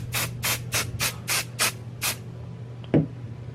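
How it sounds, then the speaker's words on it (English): Seven short hissing bursts from an aerosol can of basting adhesive in a quick, even rhythm, followed by a soft tap after a pause. "I'm gonna lightly spray"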